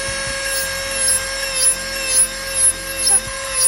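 An electric nail file sander buffs gel nails, giving a steady high-pitched motor whine with a faint grinding rub that swells briefly at regular intervals as the bit passes over the nail surface, close up and with no talking.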